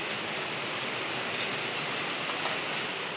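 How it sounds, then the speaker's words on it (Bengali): Steady rain falls outside as a soft, even hiss, quiet and unbroken, with a few faint ticks of drops and no voices. "সকাল থেকে না একভাবে বৃষ্টি"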